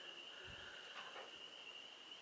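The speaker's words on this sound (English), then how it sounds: "That's the frog singing." Frogs calling in mating season outdoors, a faint steady high trilling chorus from a distance with a few soft low thumps nearby.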